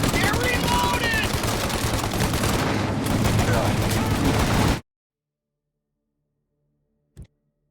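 Rapid machine-gun and pistol gunfire in a shootout from Mafia: Definitive Edition, loud and continuous for about five seconds, then abrupt silence broken by a single distant shot; shouting voices mix in with the shooting.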